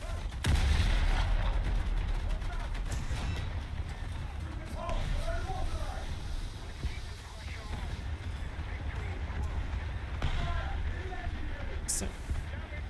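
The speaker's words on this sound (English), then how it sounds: "my secondaries and my AA is working overtime" In a War Thunder naval battle, the secondary guns and anti-aircraft guns of the battleship HMS Churchill fire in rapid, continuous bursts, a dense rattle and thud of gunfire that persists under the game's ambient noise.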